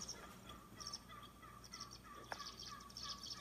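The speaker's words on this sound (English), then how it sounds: "Is that a turkey in the background?" A turkey gobbles faintly in the background, its rippling calls recurring through the clip against a low outdoor hum, with no talking.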